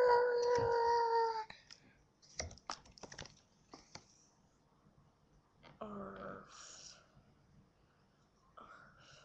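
A dog lets out a drawn-out howl, then quiet clicking and tapping, before the howling rises again and trails off.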